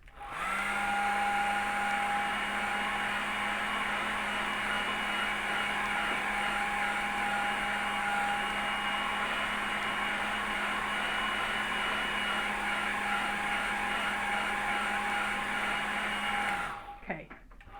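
A hair dryer blows over wet watercolour paint on a landscape painting, a loud steady whirring drone that runs continuously for most of the clip before cutting off near the end.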